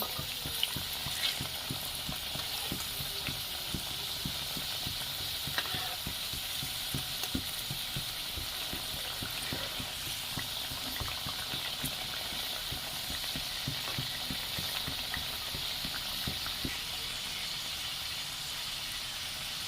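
Saptapuri pitha, a palm-flavoured Bengali sweet, frying in hot white oil and being turned over, giving a steady, dense sizzle with light crackling throughout, close and continuous with no talk.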